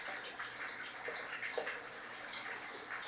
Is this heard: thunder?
no